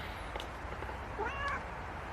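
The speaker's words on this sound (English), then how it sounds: "the cat's on my lap here" A cat sitting on a lap lets out a single short meow close to the microphone, fairly soft against a steady low background hum.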